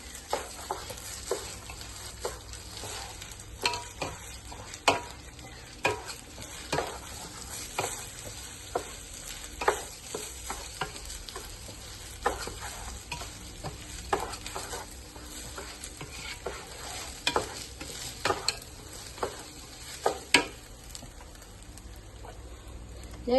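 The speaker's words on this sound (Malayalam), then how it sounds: "നെയ്യ് ഒഴിച്ചിട്ട് നമുക്ക് നന്നായി ഒന്ന് ചൂടാക്കി വെക്കാം." Ghee heats in a pot for Malabar mutton biryani, giving a soft, steady sizzle broken by irregular scraping and clinking as it is stirred, close and fairly quiet.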